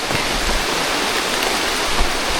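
Steady rain pours down in an even, dense hiss with no pauses, loud and close throughout.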